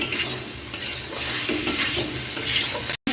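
Chira khichuri with spices being stirred in a frying pan, a steady sizzle with scraping spatula strokes at close range and no talk.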